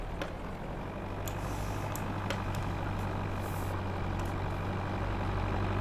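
Pickup truck engine driving in Farming Simulator 22, a steady low drone with a constant hum throughout and faint higher clicks, no talking.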